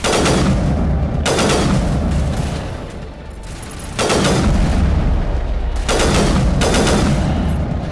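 Sniper fire in Mass Effect Legendary Edition cracks out as loud, sharp reports in repeated bursts, with several heavy shots roughly every couple of seconds and a brief lull between them.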